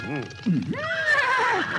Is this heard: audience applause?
no